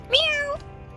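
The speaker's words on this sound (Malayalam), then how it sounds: "പൂച്ച എവിടെ ഇതാ കറുത്ത പൂച്ച" A single clear cat meow, rising then falling in a drawn-out tone, close by and fairly loud against a quiet background.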